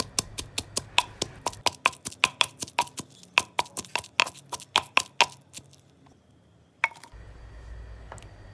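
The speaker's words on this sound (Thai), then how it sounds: "พริกกระเทียมก็อบไปพร้อมกับไส้กรอกเลยนะคะ พอสุกแล้วแล้วก็เอามาตำให้ละเอียดค่ะ" Roasted chili, garlic and sausage pounded in a mortar with a pestle, a rapid, steady series of sharp close thuds, then a pause and a few last strikes.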